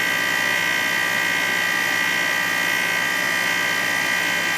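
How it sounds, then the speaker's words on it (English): A compressor runs with a constant, loud whine and hum, steady throughout with no pauses and no voices over it. "the compressor sounds like a good one"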